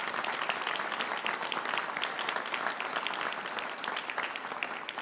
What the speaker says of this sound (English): If you could give them all a round of applause.